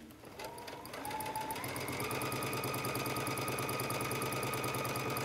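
A sewing machine runs steadily, stitching a hem with a twin needle at a 4.0 stitch length; the motor hum starts softly and settles into a constant, close, even whir with no talking.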